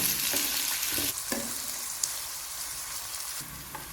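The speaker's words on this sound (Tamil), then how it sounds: "நல்லா வதக்கிக்கணும்." Steady sizzling of onions sautéing in hot oil for chicken gravy, with occasional stirring scrapes; continuous and fairly close, no voices.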